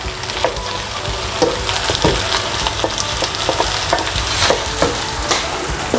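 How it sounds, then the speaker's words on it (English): Capsicum sizzles loudly in a hot paella pan of chicken and vegetables, a steady crackling fry with sharp spatters and occasional stirring scrapes throughout, close and continuous with no talk. "So I'm just going to be adding my capsicum"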